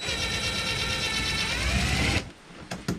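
A ratchet wrench works loose 10 mm bolts under a Sea-Doo personal watercraft during winterizing, giving a dense, continuous whirring clatter that stops abruptly, followed by a couple of sharp clicks, close and loud, with no talking.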